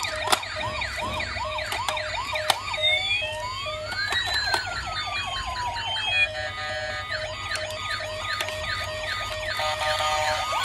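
A small toy siren wails in repeating electronic up-down sweeps, bright and steady, shifting through a few different siren patterns with no talking.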